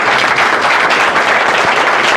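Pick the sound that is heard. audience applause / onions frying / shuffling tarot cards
audience applause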